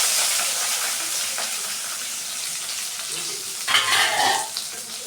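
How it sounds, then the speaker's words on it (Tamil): Onion, dried red chillies and curry leaves sauté in hot oil, a continuous crackling sizzle with a brief louder burst of frying near the end, no talk. "நல்லா நம்ம வதக்கிப்போம்."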